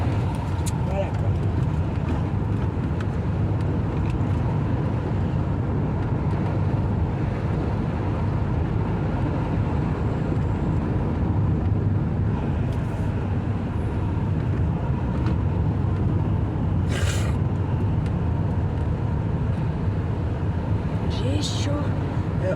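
Inside a car moving along a small road on a hot, sunny day, a loud, steady engine and road rumble carries on throughout, with occasional wind buffeting. Someone talks over it.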